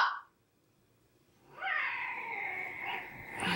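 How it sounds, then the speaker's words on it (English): A brief yowl from fighting cats, then a pause, then a longer, rising and wavering caterwaul as they squabble, moderately loud and a little distant. "I'm sorry if you can hear cat fighting."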